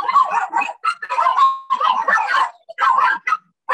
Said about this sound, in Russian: Это они уже отошли от страха, начали гавкать.